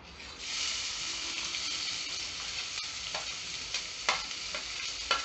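Onions sauté in hot oil over a lowered flame for green peas kachori filling, giving a steady bright sizzle with a few scraping stirs near the end.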